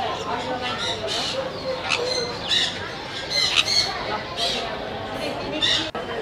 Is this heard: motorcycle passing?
no